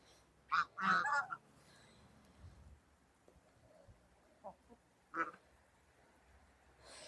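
A few honking goose calls from a poultry yard kept with hens, a short burst near the start and another later, over quiet background with faint patter.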